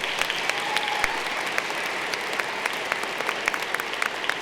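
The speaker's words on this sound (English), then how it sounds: "Give her a round of applause, folks." Audience applause at a college commencement, steady clapping from a crowd with a few sharper nearby claps standing out, no speech over it.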